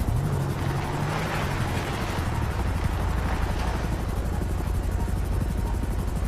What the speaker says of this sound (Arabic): الطياره قاعده تلحقني